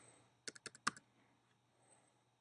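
A short burst of about five quick, crisp key presses on a computer keyboard while a password is typed, close and clear in an otherwise quiet room with a faint hum.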